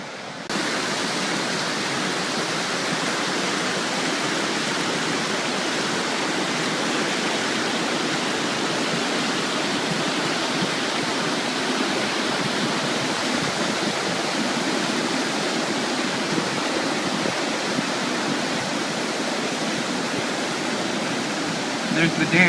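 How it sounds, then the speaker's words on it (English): Water pouring over the top of a concrete dam beside a hiking trail, a loud, continuous rushing roar close at hand that holds steady throughout. "now the water is just spilling right up above, right over the top of it"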